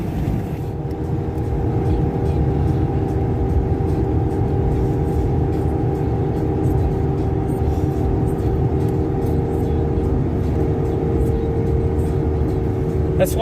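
An old truck's 360 engine idles and revs steadily for several seconds, a loud, continuous low rumble heard from inside the cab.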